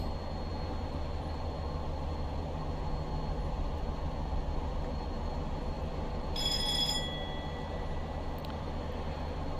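Low, steady rumble of a Class 205 diesel-electric unit running slowly in Train Simulator, a continuous engine drone with a brief high whine around the middle, no talk.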